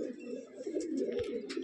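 Andhra breeding pigeons in a loft coo in a brief, low, burbling stretch, faint and close, with light scratches and flutters over it.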